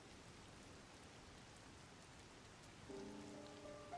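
Rain falls in the Zelda: Tears of the Kingdom game, a steady soft hiss of drops on surfaces, faint and even, with a brief tonal game chime near the end.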